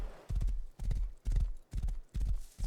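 Horse hooves clip-clopping in the survival game Rust, five heavy, evenly spaced thuds landing in a steady walking rhythm, close and clear with no talk over them.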